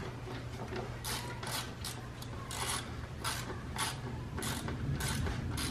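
Ratchet tightening the throttle body bolts on a 2015 Chrysler 200 3.6L during a ported 80mm throttle body install, with repeated close clicking bursts in a steady back-and-forth rhythm over a constant mechanical background.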